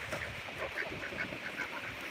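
Several ducks on a rural South Dakota farm quack softly in a quick, irregular series, heard at a distance over a low background hiss.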